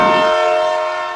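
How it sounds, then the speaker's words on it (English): A freight train's horn blares loud and sustained with steady harmonic tones, a brief low rumble at the start and no voices. "That's a freight train."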